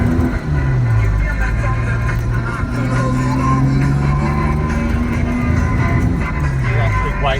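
1970 Jaguar E-type 4.2 liter Series 2 coupe heard from inside while driving, engine droning loudly with pitch climbing and dropping through gear changes, with light talk underneath.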